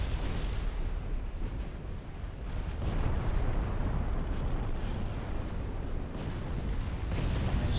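Naval shellfire in Ultimate Admiral Dreadnoughts, with a battleship's secondary guns firing during a fleet engagement, forms a dense, continuous rumble of distant booms and artillery blasts that rolls steadily throughout.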